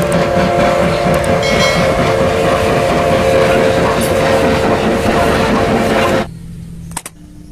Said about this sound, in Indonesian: Wow, lihat ada kereta api Thomas.